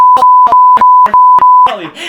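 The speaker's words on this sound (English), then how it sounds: "We're gonna have to bleep the name" A loud, pure electronic censor bleep tone pulses six times in a quick, even rhythm, then a voice briefly cuts in at the end.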